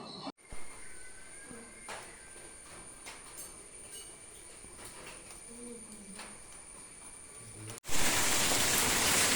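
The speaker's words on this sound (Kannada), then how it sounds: "ಫುಲ್ಲು ಮಳೆ ಬರ್ತಾ ಇದೆ" Heavy rain falls during a monsoon stay in Yellapura, a dense steady hiss with occasional drips and knocks, ending in a loud close burst of downpour.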